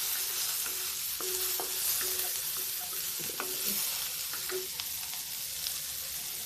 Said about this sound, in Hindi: प्याज को थोड़ा हल्का ब्राउन होने तक पकाएंगे